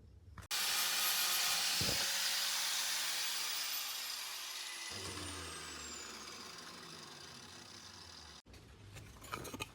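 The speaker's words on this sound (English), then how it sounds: "I'm gonna work on digging this out. I guess with the grinder." An angle grinder digs into metal with a loud, sustained hissing roar that slowly drops in pitch under load, stops briefly, then starts again.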